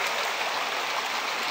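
Rushing river water flows past cobbles and a bedrock crack, a steady, dense broadband wash filling the whole moment without any voices.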